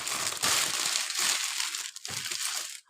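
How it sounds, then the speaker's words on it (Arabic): A plastic bag crinkles and rustles up close as biscuit dough is pushed inside in a home kitchen, a dense, crackly scrunching that comes in bursts with brief pauses between handlings. "احط العجينه بقى ايه كده في الكيس"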